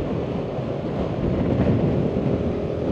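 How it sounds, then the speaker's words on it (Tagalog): Strong wind buffeting the microphone at a high mountain spot, a dense, loud, continuous rumbling roar with gusty swells and no voices. "Narinig niyo yung hangin. Ang lakas."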